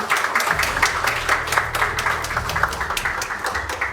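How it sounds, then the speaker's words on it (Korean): A room full of people at an Information Security Day award ceremony applauds, a warm sustained patter of clapping that carries on evenly for several seconds. "여러분 따뜻한 박수로 축하해 주시기 바랍니다"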